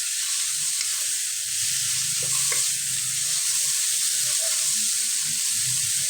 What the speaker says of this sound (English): Now, while this is pan frying